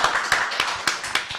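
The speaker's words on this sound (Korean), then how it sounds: "격려의 박수 좀" A small group at a local community broadcast gives brief encouraging applause, a handful of distinct sharp claps in a loose rhythm over a low bed of clapping, close and fairly loud.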